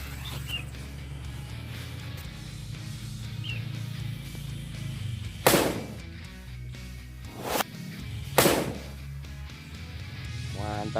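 Three sharp, loud firecracker bangs go off a couple of seconds apart, each a sudden crack over a steady background hum.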